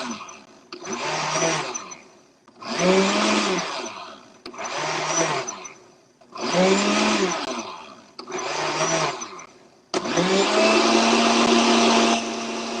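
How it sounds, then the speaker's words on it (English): A blender whirs through drink ingredients with freshly squeezed lime juice, running in five short loud pulses with pauses between, then settling into one steady continuous blend at the end. "We're going to blend that up."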